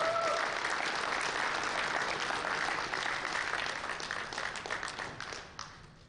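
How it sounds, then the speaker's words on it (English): Big round of applause from the audience at a powerlifting national championship, sustained dense clapping that holds steady, then tapers off toward the end. "big round of applause now for Newt"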